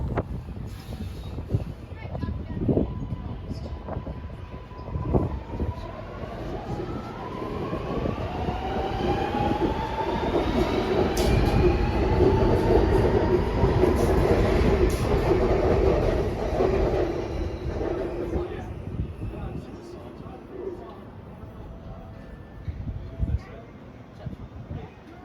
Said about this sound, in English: we will have a look at the metro departing